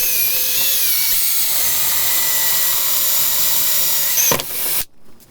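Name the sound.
drilling a washer blank with a hole saw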